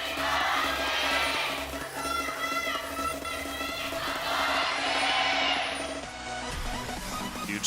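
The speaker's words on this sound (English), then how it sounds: "Huge cheers from the crowd for Samsung." At an LCK League of Legends esports match, a large indoor crowd cheers loudly for Samsung in swelling waves, with shouts and a voice mixed into the roar.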